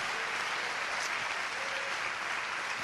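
A church congregation applauding during a worship service, a continuous broad wash of many people clapping together, loud and steady throughout, without any voices rising above it.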